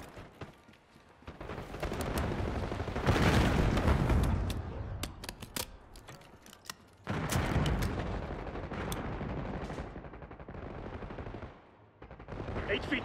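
Gunfire in the Black Ops 6 beta, sustained rattling automatic fire and heavy blasts in a firefight, with game voices and a quieter stretch between volleys.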